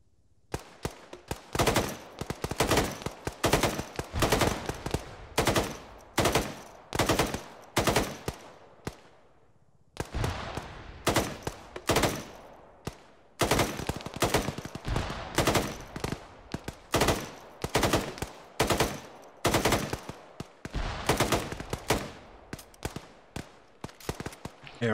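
Gunfire in the video game Arma 3 comes as repeated loud bursts of automatic fire, sharp and close, spaced by short gaps, with one longer pause midway.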